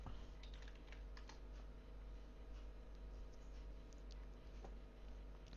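Steady, quiet clicking of keys typed on a computer keyboard, continuous and close, with no voices.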